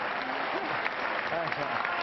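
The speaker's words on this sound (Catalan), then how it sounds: "I ovació d'aquesta pista" A crowd applauds at a tennis court, steady clapping filling the whole stretch at moderate volume, with a commentator's voice speaking over it.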